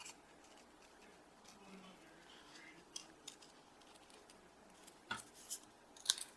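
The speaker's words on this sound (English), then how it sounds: "I'm just turning the paper, keeping my scissors pretty straight on." Scissors make faint snipping and crisp rustling as they cut patterned paper for a card. The sounds come in soft, irregular bursts, close by in a quiet room, with a few sharper snips toward the end.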